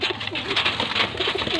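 Pigeons of a prized spotted breed coo in low, repeated rolling calls close by at a Faisalabad pigeon sale, over a steady background hiss.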